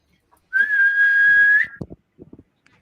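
A single loud, steady whistle holds one high note for about a second, followed by a few soft, brief vocal sounds.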